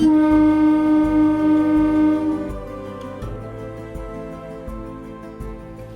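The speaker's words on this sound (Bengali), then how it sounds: "উঠে পড়েছি ট্রেনে, ট্রেনটা জাস্ট ছেড়ে দিত, দৌড়ে দৌড়ে ধরলাম।" Passenger train rolling along on the way back from the Sundarbans: a steady, loud rumble with rhythmic clacks as wheels pass rail joints, strongest early and then easing slightly.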